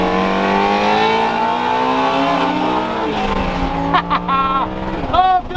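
A rear-wheel-drive Lamborghini Huracan racing, its engine holding a steady high drone with rising and falling revs and quick gear changes near the end, heard close with a voice talking over it.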